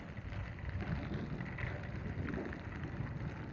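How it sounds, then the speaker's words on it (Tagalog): Heavy rain pours outdoors in the Philippines as a typhoon approaches, a dense, continuous roar with a muffled low rumble, steady and fairly close. "Lakas na talaga yung ulan par."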